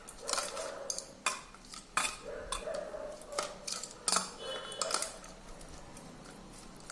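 A spoon scrapes and clinks repeatedly against a bowl while mixing a yogurt raita with cucumber and onion, giving irregular sharp taps close by with no talk.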